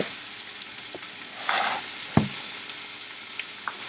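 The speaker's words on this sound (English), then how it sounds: "Just drop some pepper there. We'll get that cooking away." Pepper frying in hot vegetable oil, a constant soft sizzle with a louder crackling burst and a sharp utensil knock midway, then scattered small pops.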